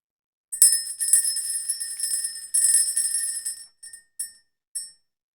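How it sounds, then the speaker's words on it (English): A small bright bell rings in quick repeated trills, first a long sustained burst, then a second run, then a few short separate dings, close and crisp in near silence. "let's ring the bell"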